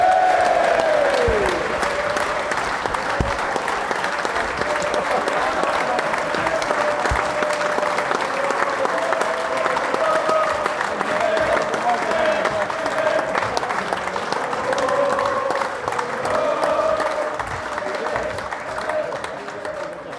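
Sustained audience applause from a crowd at a televised football show, welcoming a member of an FA Cup–winning team; steady, dense clapping throughout, fading slightly near the end.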